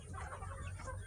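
A sick chicken clucks softly on a farm, faint and continuous behind low background noise, with no talk.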